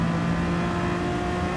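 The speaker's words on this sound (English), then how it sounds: "Let me show you the power of the VTEC Honda" Honda VTEC engine in an RXGT rallycross race car at Big Willow, a loud, close, sustained high rev holding a steady droning pitch for under two seconds.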